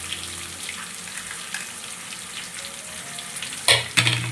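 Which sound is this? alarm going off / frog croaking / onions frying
onions frying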